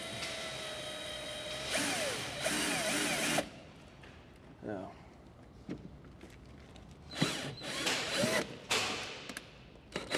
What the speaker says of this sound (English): Am I really going to drill into this?